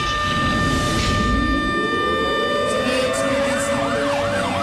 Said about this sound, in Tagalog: Sa tunog ng sirena, sinimula ng earthquake drill sa Maynila.